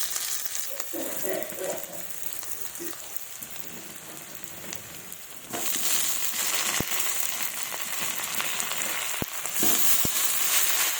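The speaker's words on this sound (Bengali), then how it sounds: "এগুলো একটু লাল লাল করে ভেজে নেব, হালকা লাল লাল করে ভাজবো" Vegetables fry in hot oil spiced with cumin, a steady broadband sizzle that grows louder and denser partway through, with a few sharp clicks near the end and no voices.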